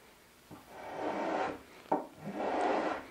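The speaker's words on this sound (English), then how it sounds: "I'm just using my spoke shave" A spokeshave shaves the sharp edges of a live edge wood table in two close, rasping strokes, each opening with a small knock against the wood and then scraping steadily for about a second.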